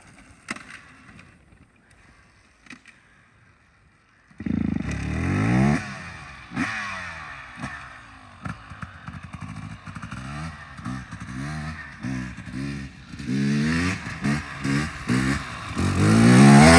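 A KTM dirt bike on a trail after a bump start: quiet rustling at first, then the engine suddenly catches and runs loud and close, blipping and revving repeatedly with rising and falling pitch.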